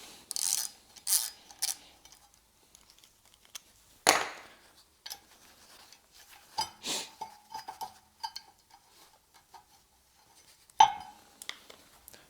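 Tool loosening a Torx T30 screw on a Peugeot 206 RC brake disc, sparse close metallic clicks and clinks with sharp knocks around four and eleven seconds, quiet gaps between them, no talking.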